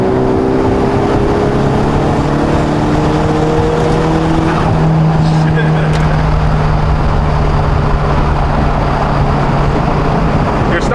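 A stock turbocharged JDM car engine revs loudly and steadily with a continuous droning whine, heard from close up for the whole stretch.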